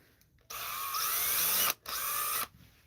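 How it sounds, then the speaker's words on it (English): A power drill spins up to drill out diecast toy car wheels, two loud, close, steady high-pitched whirring bursts separated by a brief pause. "drill them out"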